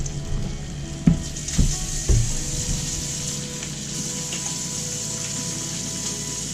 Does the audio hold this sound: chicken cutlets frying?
yes